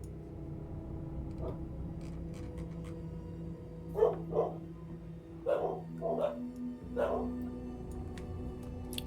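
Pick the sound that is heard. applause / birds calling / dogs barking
dogs barking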